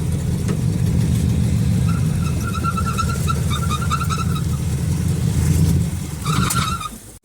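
A Chevrolet Monte Carlo, moved for the first time in a couple of years with questionable power steering and brakes, drives under its own power, its mid-pitched engine loud and close, revving and running steadily before a brief squeal near the end.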